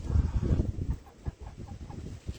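A rooster clucks and grumbles close by, low throaty bursts followed by a few softer, scattered clucks.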